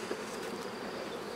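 Honey bees buzz at an open hive while a calming varroa treatment solution is sprayed over the colony during the nectar flow, a close, steady, dense hum held evenly throughout.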